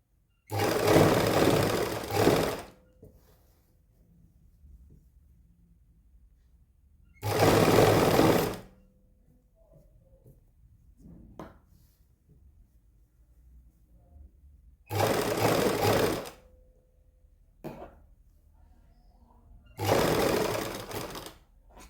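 Sewing machine stitching fabric while making a back neckline with a strip: four separate loud bursts of fast whirring stitching, each about two seconds long, with quiet gaps and faint handling noises between them.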